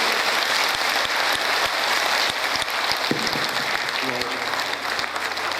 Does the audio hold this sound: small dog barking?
no